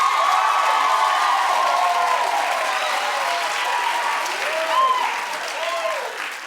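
Crowd clapping steadily with scattered whoops and cheers from an audience at a show, loud and dense throughout, with a few voices calling out over the applause.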